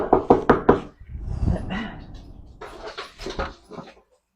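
Several sharp knocks on a front door in a quick cluster, then a dog's muffled bark from inside and another burst of rapid knocking, close by.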